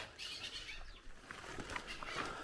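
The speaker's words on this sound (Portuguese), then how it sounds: "Nossos pássaros." Faint bird calls, with a few thin chirps and possible wing flutters, sound amid steady outdoor background noise along a rural route in Goiás, Brazil, on a bicycle trip.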